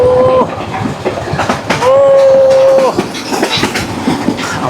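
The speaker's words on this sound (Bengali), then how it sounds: "এই যে দেখুন কিভাবে চলছে ট্রেন" A train runs steadily on the line near Lalmonirhat, with a loud continuous rumble and rattle from inside the carriage. Two long whistle-like squeals cut through, apparently wheels or horn.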